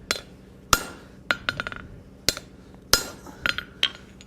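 Sharp metallic hammer strikes on a domed rivet, about nine to ten distinct blows in irregular bursts, some single and some in quick doubles, ringing clearly with no voices.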